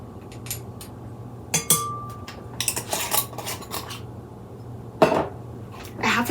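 Metal measuring spoon clinking against a mixing bowl while dry mustard powder is added for deviled eggs: sharp, bright taps in scattered clusters, a few close, loud clinks standing out over quiet room noise.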